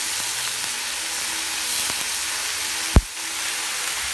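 Turkey bacon sizzles steadily in a frying pan, a soft continuous crackle and hiss with one brief sharp clack near the end.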